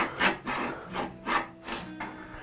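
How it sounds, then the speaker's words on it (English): Japanese pull saw cutting through wood while making a lamp, several close back-and-forth rasping strokes at an even rhythm. "Japanese saws aren't easy to turn."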